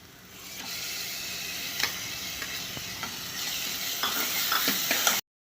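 Onion, capsicum and tomatoes roast in a pan for pav bhaji, an even sizzle with scattered scraping and clicking stirs from a spatula, close and moderately quiet, ending in sudden silence.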